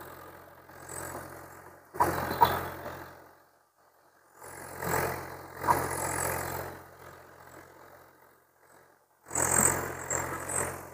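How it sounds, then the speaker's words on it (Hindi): Diesel engine of a Swaraj 735 XT tractor held at 1400 RPM. Steady mid-pitched engine sound comes in separate loud stretches with near-silent gaps between them. No one speaks. "1400 के RPM पे ट्रैक्टर को जो है वो सेट करके लॉक कर दिए हैं"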